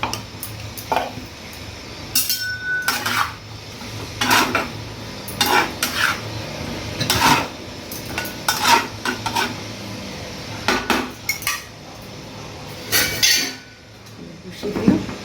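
Prawns steaming in a covered pan are stirred with a metal utensil, giving repeated clinks and scrapes against the pan in irregular bursts over a quiet background simmer.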